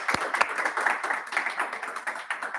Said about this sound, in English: let's thank Kemal once again with a big applause.